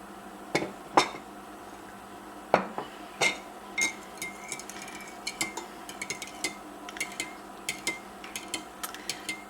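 Milk being mixed into eggs in a bowl, a string of light, irregular clinks and taps from a utensil striking the bowl, close and fairly quiet over a soft background hum.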